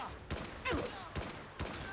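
Assault rifle hip-fired in Fallout 4, from an AK-style weapons pack: four sharp, evenly spaced gunshots across two seconds, each with a short ringing tail, with faint voices and game sounds beneath.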